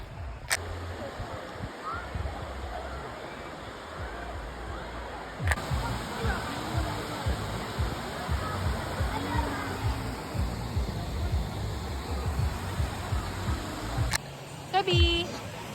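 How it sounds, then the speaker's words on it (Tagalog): Bolinao Falls 3 waterfall in Pangasinan rushes with a steady, dense roar of falling water that stays constant throughout, with a few sharp knocks near the mic and faint voices in the background. "ito na yung Bolinao Falls 3"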